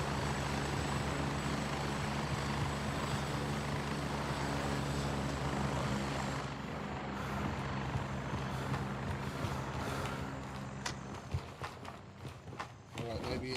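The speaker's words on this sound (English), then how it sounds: "if we can get away from this fucking noise that is these helicopters" Helicopters in the video game Gray Zone Warfare drone loudly and steadily as a low rotor hum with a constant whine, continuous throughout, with thumps and clatter breaking through near the end.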